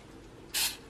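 Coconut oil cooking spray squirted into a loaf pan, one short, close hiss of about a tenth of a second against a quiet kitchen background.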